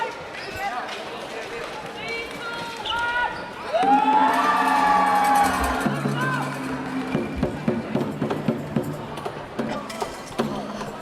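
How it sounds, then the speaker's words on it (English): At a volleyball final, a crowd led mostly by parents cheers and shouts, swelling loudly mid-way. Squeaking shoes and thuds from the court mix in, and a commentator speaks over the noise. "So once again, the cheering led primarily by parents"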